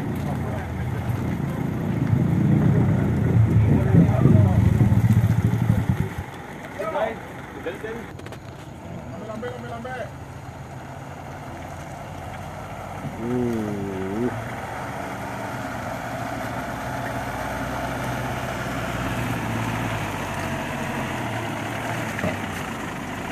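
A truck engine labours and revs hard up a slippery road, loud and low for the first several seconds before easing off to a quieter rumble, with people talking over it.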